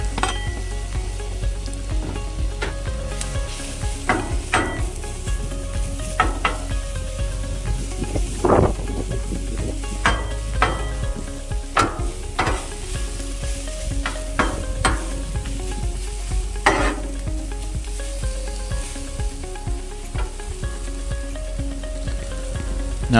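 Onions frying in oil on a griddle heated to about 350 degrees give a loud, continuous sizzle, with a spatula stirring and scraping and occasional clatters of metal throughout.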